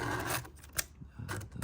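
Hand file rasping across the raker of a Stihl GTA26 saw chain, a few short close scraping strokes in quick succession.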